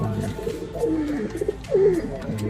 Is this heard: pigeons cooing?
yes